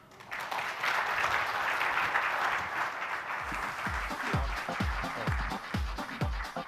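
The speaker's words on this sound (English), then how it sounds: "Please give him a huge round of applause once again" A conference audience at a design and engineering summit gives a full round of applause, dense and sustained, with a few louder, slower individual claps standing out near the end.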